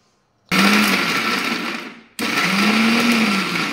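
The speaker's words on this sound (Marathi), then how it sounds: "हे वाटण मिक्सरमधून बारीक काढून घेऊ" A mixer grinder whirs loudly in two bursts grinding a garlic, coconut and coriander paste, starting abruptly, running for over a second, briefly slowing, then restarting with a steady high whine.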